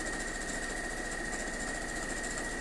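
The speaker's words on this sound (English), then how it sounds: "So again, back to the sewing machine." A sewing machine stitches a sugar star double pinwheel quilt block, a steady fast whirring hum that runs evenly throughout at moderate volume with no talk.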